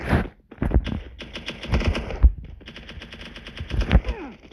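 Rapid automatic gunfire from a machine gun in a shooting video game, dense bursts of sharp shots with brief pauses between them, loud and close.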